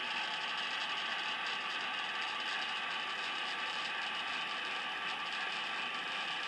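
An HO-scale model train slows on its track toward the bumper, giving a steady mechanical whir and fine clicking gear rattle that holds at an even level throughout.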